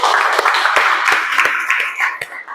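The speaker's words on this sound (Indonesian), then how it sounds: "mari kita tepuk tangan untuk kita semua dulu" A group claps together at the end of a classroom teaching session, steady mixed applause with a few sharper individual claps standing out over about two and a half seconds.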